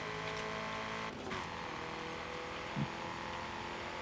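A Vauxhall Monaro's engine in the racing game Forza Horizon 5 hums at a low, steady drone, fairly quiet, with a brief shift in pitch midway.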